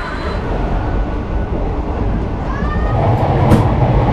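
Inside the Howrah–Digha Tamralipta Express as it pulls out of a station, a loud steady rumble of wheels and carriage noise builds slightly, with a faint high squeal near the end.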